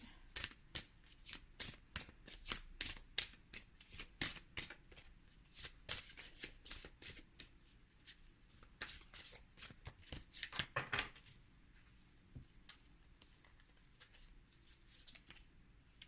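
Oracle cards are shuffled by hand in a rapid run of crisp riffling flicks, close and fairly quiet, thinning to scattered soft taps near the end, with a voice speaking partway through.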